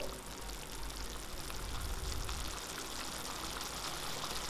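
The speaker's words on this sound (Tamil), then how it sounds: "மிக்ஸி ஜாரை கொஞ்சம் அலசி அதிலேருந்து தண்ணி கலக்கி நான் ஊற்றிக்கிறேன்" Water rinsed from a mixer jar is poured into a pot of karuveppilai kara kulambu, a steady close splashing pour that swells in the middle and fades, with no talk.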